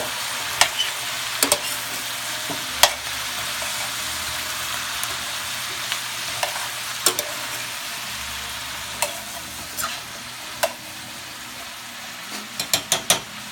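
Pot roast meat sizzles steadily in a hot pot, a constant crackling hiss with scattered sharper pops and spits throughout.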